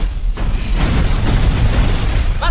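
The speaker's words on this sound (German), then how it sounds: "Was habe ich dir gesagt? Minimale Explosion." A movie-trailer explosion gives a loud, rumbling blast that fills the clip with dense low-end roar and crackle, ending in a brief high whoosh.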